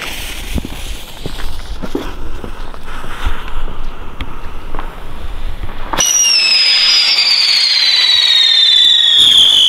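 Tornado spinner fireworks go off at night, starting with scattered crackles and pops. A loud, continuous whistling whirl then takes over and slowly falls in pitch.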